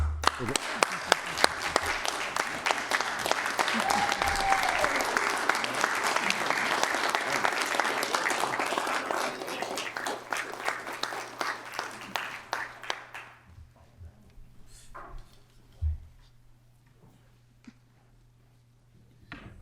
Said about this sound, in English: We can give it one more round of applause.